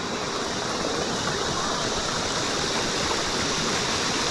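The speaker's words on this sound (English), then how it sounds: "But we'll make our way up there to the Love Creek Falls." Love Creek Falls near Brisbane pours into its stream with a steady, full rushing hiss of falling water, close and constant with no voices.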